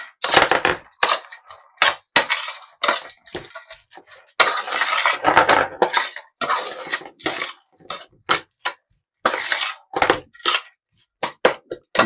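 A spoon mixes tinned fish with pepper powder in a bowl, giving irregular clinks, taps and scraping bursts separated by short silences, close and fairly loud, with no talking.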